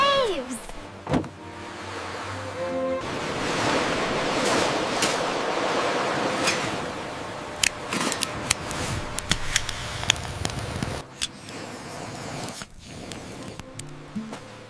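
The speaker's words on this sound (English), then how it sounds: "Wow, look at the waves!" Broad, rushing ocean surf washing onto a shore, a steady roar that swells and recedes, with scattered clicks and a few thumps over the top.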